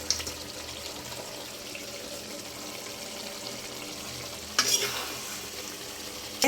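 Pieces of meat (gosht) fry in a pan of spiced masala and are stirred, with a low, steady sizzle and scraping. One louder burst of frying noise rises near the end.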